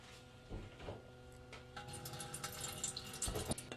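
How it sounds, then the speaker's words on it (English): Water poured or running into a Starfrit The Rock indoor grill setup, a steady splashing, trickling wash with brief louder bursts, fairly close and alone without talk. "So we are going to add some water."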